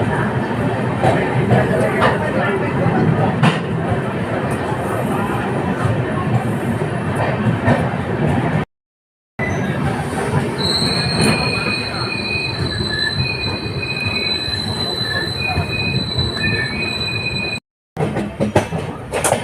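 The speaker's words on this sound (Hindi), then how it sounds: "तो 5 मिनट के बाद ट्रेन का डिपार्चर हो गया है मुजफ्फरपुर जंक्शन से" A diesel train pulls out of Muzaffarpur Junction, wheels squealing in long high-pitched tones over a steady rumbling roll, with brief dropouts in the sound.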